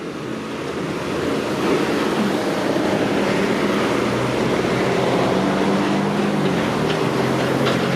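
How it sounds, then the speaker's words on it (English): A Toronto 94 city bus passes on Harbord Street, its engine rumble and tyre roar rising and sustaining close by through steady wind noise on the street. "Another 94 bus."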